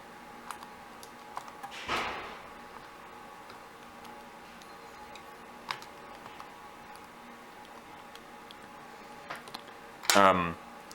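Small mushy membrane keys on a rare handheld organizer-style computer are tapped in a few sparse, soft clicks, with a louder burst of pressing near the end and a voice speaking in the background.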